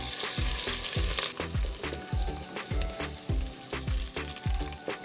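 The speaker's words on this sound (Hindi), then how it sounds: "घी जो है ये गर्म हो चुका है। अब सबसे पहले जो है इसमें शामिल करेंगे हम हरी मिर्च" Green chilies drop into hot ghee in a cooking pot, giving a loud, bursting sizzle up front that settles into steady frying. Rhythmic scraping knocks from stirring repeat about twice a second, close and clear, with no talking.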